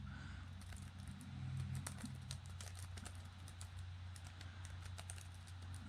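Typing on a small folding keyboard, a steady patter of soft key clicks over a constant low hum, with no voices.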